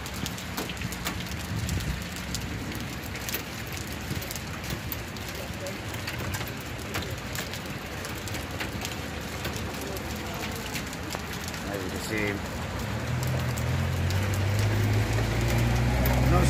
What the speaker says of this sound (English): we are getting hail out of this.